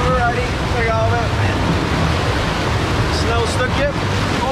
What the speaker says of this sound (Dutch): Maar nu gaan we dus hier deze wildwaterbaan trotseren.